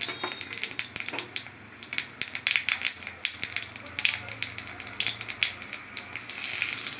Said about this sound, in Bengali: ওই তেলে জিরে ফোড়ন দিলাম